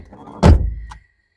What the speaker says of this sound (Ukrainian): Зараз закрию двері, бо пілікає мені чути.